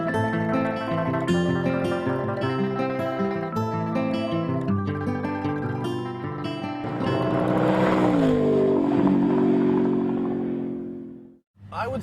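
A 2023 Volkswagen GTI is pushed hard around a racetrack, its engine loud and close, revving steadily through the gears with a stretch of tire squeal, while a voice talks over it.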